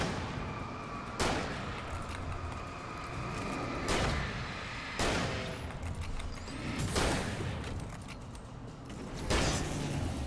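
Gunfire in the video game Alan Wake: five loud, sharp gunshots spaced about a second or two apart, each a broadband crack ringing out over a continuous low game ambience.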